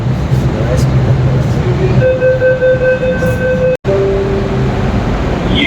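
A Jaipur Metro train rumbles along with a steady roar, tonal whine rising mid-way, heard from inside the car with a voice faintly underneath.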